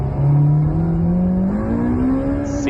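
Honda engine revving hard as VTEC engages, a loud, steady rising pitch that climbs smoothly through the revs without talk.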